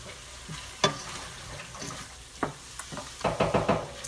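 Rice dressing sizzles and fries in a pan while a spoon scrapes and stirs through it, giving several sharp knocks against the pan, with a quick run of stirring strokes toward the end.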